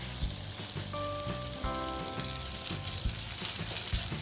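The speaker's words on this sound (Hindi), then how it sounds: "इन तीनों को हम तेल के अलग होने तक पकाएंगे।" A Schezwan sauce base sizzles in hot oil in a pan, a dense, even crackle close by, with regular stirring scrapes and a brief metallic ring partway through; no one speaks.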